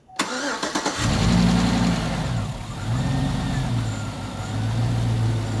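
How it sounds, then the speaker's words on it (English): A car engine cranks with a rapid rhythmic churn for about a second, then catches and settles into a loud, steady idle with slight rises in revs, heard close up while a belt runs on newly installed pulleys. "Go ahead and crank it up."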